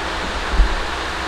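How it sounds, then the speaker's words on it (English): An electric fan runs steadily in a garage, a constant airy whooshing hiss close to the microphone with a brief low thump in the middle. "I apologize for the fan noise."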